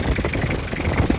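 A 2002 Isuzu Panther LGX diesel engine idles close by with a steady low rumble and a slightly uneven chug, heard alone.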